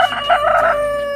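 A native rooster crows loudly and close by, a strained, wavering call lasting about a second, on a free-range chicken farm.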